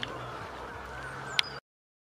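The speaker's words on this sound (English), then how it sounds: "I'm just going to see those geese." Geese honk faintly at a distance, and one sharper, louder honk stands out near the end. A quiet outdoor hum sits underneath, and the sound cuts off abruptly.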